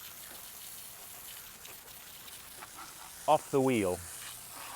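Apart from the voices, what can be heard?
water from a garden hose rinsing a car wheel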